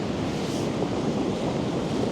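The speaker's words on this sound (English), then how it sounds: "I'm just waiting for the sea to come in and swirl around these rocks a little bit." Sea waves surge in and swirl around a trio of rocks on the shore, a steady close broadband wash of surf with wind buffeting the microphone throughout, no voices.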